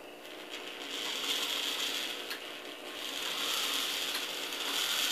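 Gearless valve-lifting mechanism on an old belt-driven engine, running with a steady whirring and rattling mechanical clatter that swells and dips slightly in a continuous cycle, with no talking.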